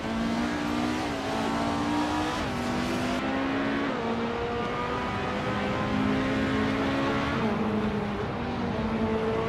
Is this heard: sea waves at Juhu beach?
no